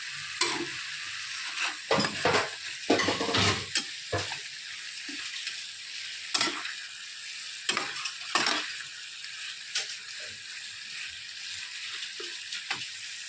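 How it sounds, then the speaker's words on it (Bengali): Fried bitter gourd being stirred into kasundi in a pan: crisp sizzling broken by frequent scraping, clattering strokes of the spatula, close up with no speech. "হালকা নাড়াচাড়া করে এর মধ্যে ভেজে রাখা করলাগুলো দিয়ে দিচ্ছি।"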